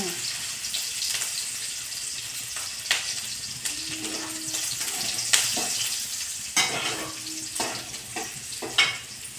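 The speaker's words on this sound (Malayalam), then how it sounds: "പച്ചമുളക് ഇടുവാണ് അടുത്തത്. പൊട്ടിത്തെറിക്കും." Green chillies spluttering and sizzling in hot oil for a North Indian cauliflower curry, a continuous frying hiss broken by sharp crackling pops, with light stirring and kitchen clatter.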